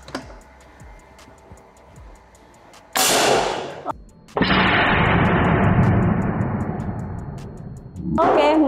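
A Rahwana PCP air rifle fires at a target and smashes it with two loud, sharp blasts, each trailing off in a long noisy decay, over quieter ticking, and a third burst comes near the end.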